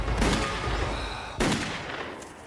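Gunshots in a tense standoff: two sharp, loud reports roughly a second and a half apart, each followed by a decaying rumble, with no voices.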